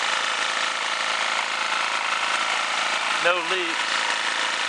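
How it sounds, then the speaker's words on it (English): A gasoline generator fitted with a brand new carburetor runs steadily at close range, a constant engine drone filling the whole stretch while someone speaks briefly over it near the end. "I got a generator again."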